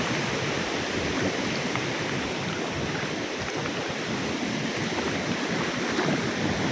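Steady, loud rush of water across an upper tier of a waterfall on a mountain hillside stream, knee-deep where it crosses over submerged rock ledges; a continuous broadband roar fills the whole clip close by, with no talking.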